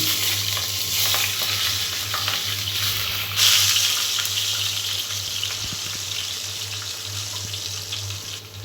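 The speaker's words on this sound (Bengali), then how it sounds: "খুব ভালো করে লাল লাল করে আমি ভেজে নেব তো ডিম ভেজে নেওয়া হয়ে গিয়েছে" Eggs frying with turmeric in a hot pan make a loud, continuous close sizzle, with a low steady hum underneath and occasional scraping from stirring; no one speaks.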